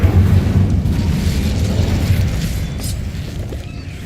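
A heavy Incendio fire spell blast in Hogwarts Legacy booms with a deep low roar that slowly fades, with a faint crackle trailing behind it.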